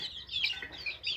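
Chickens on a small village farm give a short burst of soft, faint clucking, heard alone.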